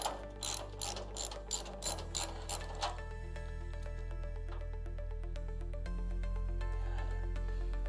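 A ratchet clicks rapidly as bolts come out of the bumper on a Dodge Charger being restored as a crew-cab build, the quick pawl bursts in the first seconds giving way to a steady mechanical hum.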